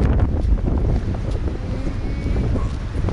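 Wind buffeting a microphone on the seashore at Kolka, a rough continuous low rumble with gusts, with a faint voice nearby.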